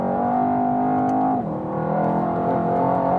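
A Mercedes-AMG E63 S on a racetrack, its engine droning loud and steady, then dipping briefly with a quick pitch drop before holding its deep tone again, no talk.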